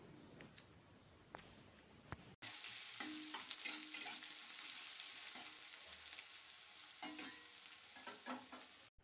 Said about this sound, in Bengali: তেলটা গরম হয়ে গেছে। প্রথমে দিচ্ছি 2টো এলাচ, তারপর দিচ্ছি পেঁয়াজটা